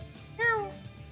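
A cat meows once in the video game Tales of Xillia 2, a single clear rising-then-falling call heard close up over low background game music.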